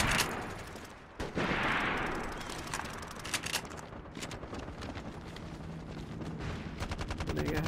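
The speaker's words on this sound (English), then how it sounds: "Everybody was shooting shotguns in there." Shotguns firing repeatedly in the PS3 video game MAG, a loud, dense run of sharp blasts and cracks with an explosion-like burst early on, continuing in quick irregular succession.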